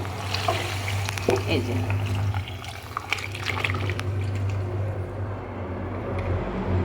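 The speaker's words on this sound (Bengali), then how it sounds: "এবার আমি এই প্রেসার কুকারে সিদ্ধ করে রাখা জিনিসগুলো এর মধ্যে ঢেলে দেব" Boiled ingredients are poured from a pressure cooker into a pan of cooked spices, giving a wet sloshing and trickling sound against a low steady background hum, with someone speaking briefly over it.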